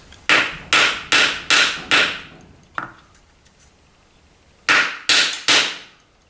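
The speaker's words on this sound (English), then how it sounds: "I much prefer to do it with a block of wood and try and distribute the hammer blows evenly" Sharp, evenly spaced hammer strikes on a wooden block, five in a row, a pause with a few faint taps, then three more crisp blows close by, while installing lathe headstock bearings.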